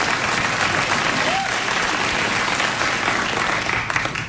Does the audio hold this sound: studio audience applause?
yes